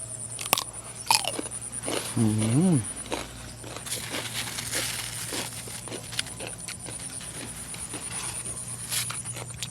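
Crunchy, sweet melon picked in a field garden is bitten and chewed close up, with a loud crisp bite near the start and then softer crunching, while someone talks over it outdoors.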